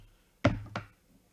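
Garlic cloves dropped into a container while making vegan garlic hummus, giving two sharp close knocks about a third of a second apart, the first louder, with quiet room tone around them.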